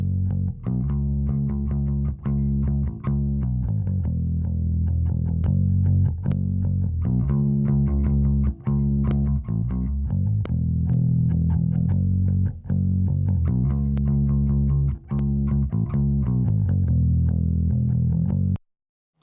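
Electric bass passing through a 1176-style FET compressor, a steady, sustained line with evenly spaced note attacks and a firm, forward midrange, loud and close with no talk over it.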